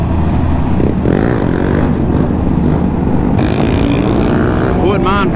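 Motorcycles riding together on a road, one popping a wheelie, a continuous loud engine and wind roar with a rider talking over it.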